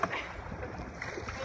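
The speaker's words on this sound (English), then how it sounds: "Imagine if I wasn't the only one paddling, we might get a little further." A canoe paddled across a glassy, calm lake on a fine day: soft, steady water wash and light wind noise close to the microphone, with no distinct strokes standing out.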